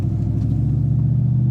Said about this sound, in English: Certainly sounds good as we take off here.